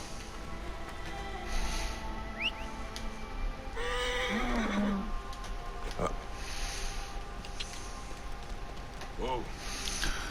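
Horse neighs in the Assassin's Creed Origins video game, a clear whinny with falling tones around the middle, later a brief snort, set against steady game ambience while someone talks over it.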